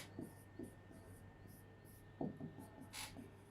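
A pen scratches across paper in short, irregular strokes as lecture notes on fluid mechanics are jotted down, faint and close up, with brief pauses between the bursts of writing.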